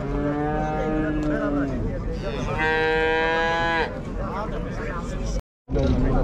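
Cattle moo repeatedly at a livestock market in Merke, Zhambyl region, with long, loud calls from several animals close by over steady background noise and crowd murmur.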